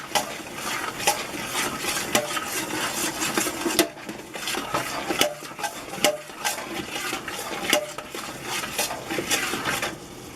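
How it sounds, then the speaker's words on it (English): Gluten-free stuffing being mixed by hand in a dish, with busy, continuous scraping and clattering of utensil against the bowl at close range, no talking. "Now I'm going to mix that all up nice and rightly."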